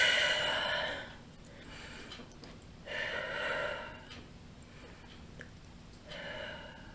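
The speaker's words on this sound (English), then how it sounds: "take 3 deep breaths" Three slow, deep breaths taken close to the microphone, each a soft airy inhale and exhale spaced a couple of seconds apart, with quiet in between.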